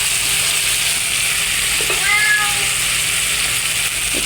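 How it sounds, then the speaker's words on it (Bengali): Spice paste with mixed masala sizzles and fries in a pan, a steady hissing crackle with a faint stirring scrape in the middle. "একটু 1 টেবিল চামচ মিক্স মশলা দিয়ে মশলাটাকে ভালো করে কষিয়ে নেব।"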